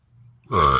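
A single loud, close burp rises out of near silence and holds for under half a second with a rough, resonant tone.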